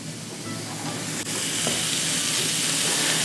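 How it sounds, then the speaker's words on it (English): Carbonara ingredients sizzle in a frying pan, a steady bright hiss that swells slightly louder after a brief dip, close and continuous with no talking. "once you hear it start to sizzle, you can move on to the next part"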